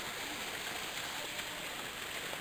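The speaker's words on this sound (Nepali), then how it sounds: "अहिले हामीले एउटा झरना भेटेका छौँ, झरना एकदमै रमाइलो छ, माथिबाट झरिरहेको छ" A waterfall on the trek to Bhairav Kunda pours down from above, making a soft, even hiss of falling water heard from a little distance, constant throughout with no voices.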